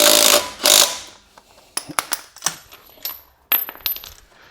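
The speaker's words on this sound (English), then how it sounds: "let's torque this 150 foot-pound torque stick" Milwaukee M12 stubby impact wrench set to maximum torque mode driving a 150 foot-pound torque stick, heard as two loud, dense bursts of rattling hammering, followed by a run of sharper metallic clacks and taps near the mic.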